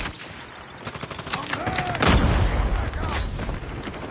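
SPR 208 marksman rifle fire in a video game, with a sharp booming shot near the middle over game ambience and softer clicks and rattles before and after.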